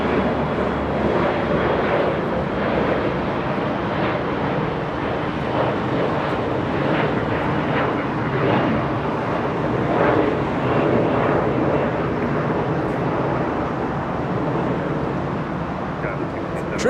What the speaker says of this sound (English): KLM 603 flying in from Amsterdam